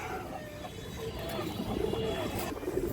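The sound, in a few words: high-flying Indian pigeons cooing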